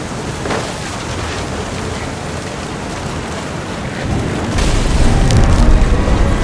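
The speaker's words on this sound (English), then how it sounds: "Thunder sounded much too close and full of angry power." Thunder rolls over heavy rain in the video game What Remains of Edith Finch, a loud, dense wash of rain that swells into a deep, rumbling boom near the end, with no talking.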